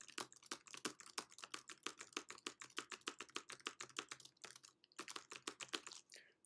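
Keys clatter on a computer keyboard as a document is typed, a quick run of close, crisp taps in bursts with brief pauses, no talking.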